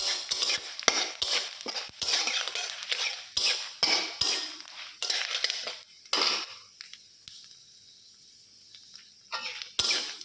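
Panch phoron and dried chilli temper in hot oil in a pan: a steady sizzle broken by repeated clinks and scrapes of a spoon stirring against the pan, close up, with no talk.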